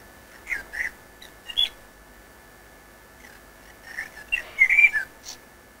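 Chirps and whistles of small songbirds, played as a demonstration of hearing loss, come as a few faint, scattered calls. They are quiet and thin, with pauses between them and a steady high tone underneath.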